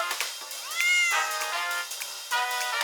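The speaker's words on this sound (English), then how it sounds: "Please save my kitten, Robo-Dino!" A kitten's high, harmonic meow rises and falls over a few seconds, with shorter mewing calls around it, loud and close, with no talking.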